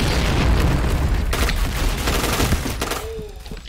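Grenade explosion in the video game Point Blank, a loud close boom followed by rattling gunfire and debris that trails off over a few seconds.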